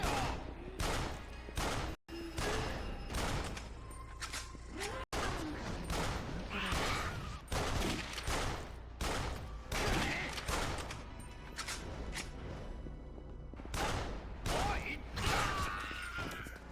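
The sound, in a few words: gunshots in the video game Yakuza Dead Souls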